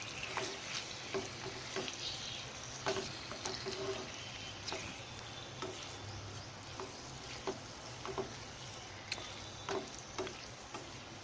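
Chicken being stirred in a pan for a Telugu-style chicken fry, a steady low sizzle broken by repeated scraping and clinking strokes of a spoon against the pan, close and moderately quiet, with no talking.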